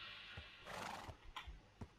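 A horse in the video game Minecraft whinnies in a few short, distinct neighs, with soft clip-clop footsteps between them, fairly close and clear.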